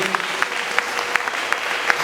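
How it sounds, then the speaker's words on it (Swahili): A church congregation clapping together in a brisk, even rhythm of sharp claps, fairly close, with faint voices underneath. "Mpigie Mungu makofi mengi."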